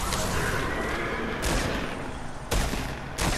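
Gunshots in Fortnite, a few loud sharp reports spaced roughly a second apart over a dense, continuous wash of battle noise, close and punchy with no talking.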